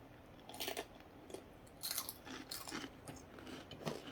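Crisp, crunchy bites of a snack being chewed close by a young child, in a few separate bursts with quiet pauses between, faint and intimate.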